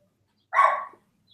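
A single short, muffled dog bark or yip from somewhere indoors, moderately loud against near silence.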